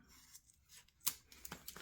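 Scissors cut off a zipper from a pouch made of upcycled food wrappers, giving a few quiet close snips and crisp rubbing crunches with short silent gaps between them.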